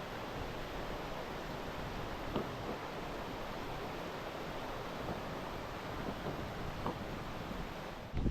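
Monsoon-swollen river water rushes beneath an old bridge in a hilly area, a dense, unbroken roar that stays even and fairly loud from start to finish.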